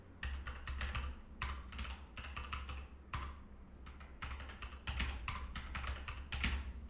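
Someone types on a computer keyboard in bursts of rapid, close key clicks separated by brief pauses, entering a name while setting up a multi-region backend.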